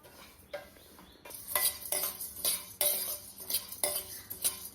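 Rice grains dry roasted in a pan, quiet at first, then a series of scraping stirs with light clinking of the spoon against metal, fairly faint and with no voices.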